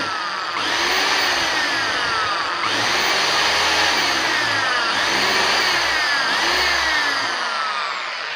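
Power drill with a sharp bit boring into a fiberglass RC catamaran hull, a loud continuous whine that dips and rises in pitch in repeated cycles throughout.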